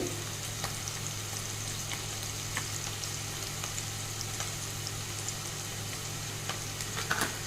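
Onions frying in a pan after turmeric is added, with a steady, soft sizzle under a low hum and no talk.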